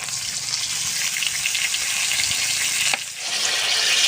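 A spice paste with turmeric, salt and a splash of water fries in a pan, a dense, steady hiss and sizzle with a brief scrape partway through, alone with no voices.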